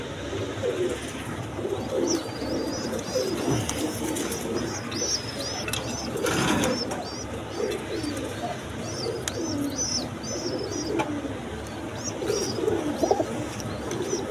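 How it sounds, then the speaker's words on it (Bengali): Large pigeons kept for sale in a market cooing repeatedly, soft throaty calls recurring throughout amid a steady background murmur of the surroundings. "একদম বিগ সাইজের কবুতর দেখেন"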